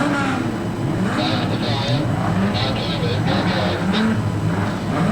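Street stock race cars restart during a heat at Redline Raceway's Australian Title meeting, their engines droning steadily throughout while a commentator talks over them.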